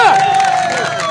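Crowd applause and cheering at a kushti wrestling bout between two pehlwans, a dense continuous wash of clapping and shouts with loud voices mixed in throughout.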